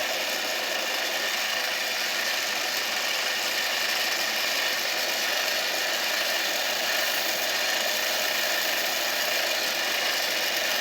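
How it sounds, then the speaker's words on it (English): Loud, constant whirring of a polishing machine working the shaft and pinions of an Edison phonograph motor, a steady close hiss that never lets up, with no talking. "All this is doing is just polishing out, and if there are any burrs on it, it'll take them down."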